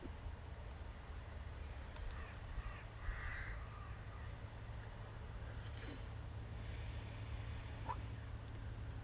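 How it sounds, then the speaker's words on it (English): A crow caws a few times at a distance, faint short calls over steady low outdoor rumble from passing traffic. "It's just a crow."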